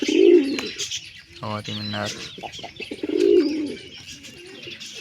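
Wild pigeon chicks coo in soft low bursts near the start and again after three seconds, with a brief voiced sound between them and faint chirps and ambient noise throughout.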